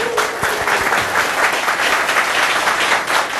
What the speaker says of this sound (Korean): 박수를 한번 보냈으면 좋겠어요